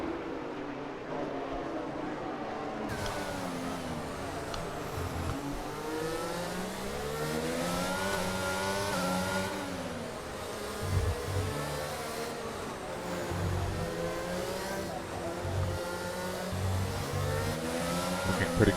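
Racing car engines in an Azerbaijan Grand Prix sim race, a steady loud drone of revving engines with gear shifts and rising and falling pitch, including a Ferrari, while a commentator talks over them.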